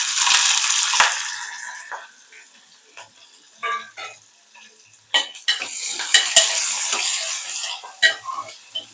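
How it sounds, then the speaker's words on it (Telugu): Onions, green chilies and curry leaves sizzle in hot tempering oil in a pan while a utensil stirs them, giving a loud hiss at the start that fades, then scraping clinks and renewed bursts of frying. "ఉల్లిపాయలు, పచ్చిమిరపకాయలు, కొంచెం కరివేపాకు వేస్తున్నాను."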